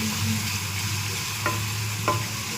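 Chili powder and ground spice powder are stirred into a frying masala in a pan, giving a steady close sizzle with two brief scraping strokes of the spoon and a low constant hum underneath.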